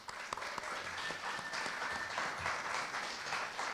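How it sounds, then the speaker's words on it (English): Pageant audience applauding at a scholarship pageant, a steady dense wash of clapping that holds at an even level for several seconds with a faint tone running beneath. "Let's give them another round of applause."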